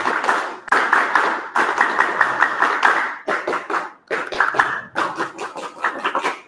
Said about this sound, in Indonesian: Kita tepuk pramuka bareng-bareng ya.